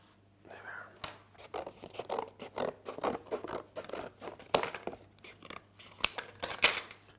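A knife trimming the foot of a sculpted baby elephant cake, giving close, quiet scraping and slicing sounds in quick irregular strokes with small clicks, set against a faint low hum.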